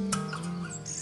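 Orange-headed thrush singing, brief bright chirps and tweeting notes in quick succession, close and clear over a faint low background hum.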